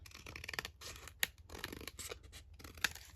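Scissors trim the edge of paper material for crafting foldout pockets, several close, crisp snips with light scraping and handling of paper between cuts, quiet and without talk.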